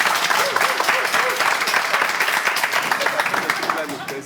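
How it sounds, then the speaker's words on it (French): A French audience at a champions competition claps loudly and continuously, a dense wash of hand clapping with murmuring and raised voices from the crowd mixed in throughout. "Allez, on les applaudit, s'il vous plaît."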